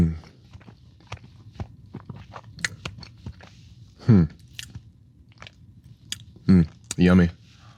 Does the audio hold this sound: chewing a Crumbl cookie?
yes